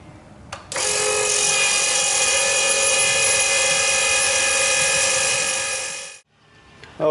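A fuel transfer pump whirs steadily and loudly for about five seconds, moving fuel from a container into a vehicle's tank, then winds down and stops with a brief click at the start.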